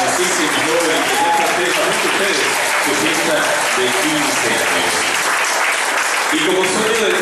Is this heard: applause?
yes